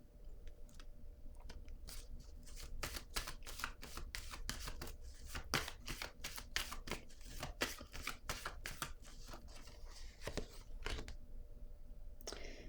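Tarot cards are shuffled and drawn by hand in a rapid run of crisp riffling clicks and soft slides, closely miked and steady over a faint background hiss, with no voice.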